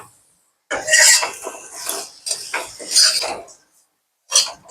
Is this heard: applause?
no